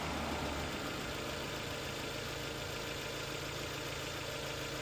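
A 2016 Jeep Cherokee Latitude engine with an overheating fault idling at about 820 RPM with a steady low rumble and even throb, continuous and close, no talking.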